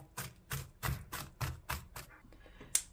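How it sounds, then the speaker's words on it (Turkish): A knife finely chops herbs on a cutting board, eight or so crisp, evenly spaced strikes close up, followed by a few lighter taps. "üzerinden de şöyle benim yaptığım gibi birkaç defa bıçakla geçelim"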